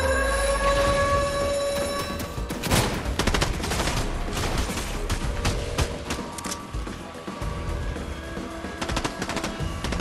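A sentry gun firing in Fortnite, a continuous rapid rattle of shots with clanking metallic hits running for about ten seconds, loud and without talk.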